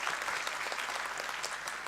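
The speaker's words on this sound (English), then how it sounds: "I think we all should give a round of applause for all of our very," An audience claps steadily for a panel of conference speakers in a session room, a dense, even round of applause that holds for the full two seconds.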